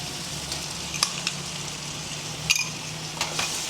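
Ginger garlic paste with curry leaves fries in a pan for gongura chicken fry, a steady broad sizzle running throughout with a few sharp clinks of a spoon against the pan.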